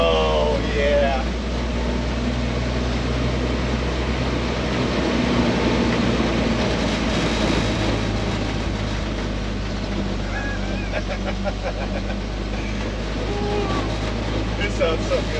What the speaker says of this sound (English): This sounds so good.